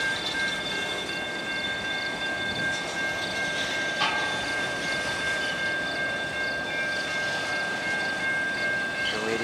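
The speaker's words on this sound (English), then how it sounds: "So now they're gonna get ready to throw the South Ladysmith switch to bring the entire consist into Ladysmith Yard." A CN freight train consist rolling into a rail yard at Ladysmith, a steady loud rumble of rail cars with a sustained high wheel squeal and a brief clank midway, continuous and close.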